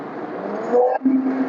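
A car engine in the video game Mad Out 2 revs briefly, rising in pitch, cutting out for an instant, then holding a steady higher whine.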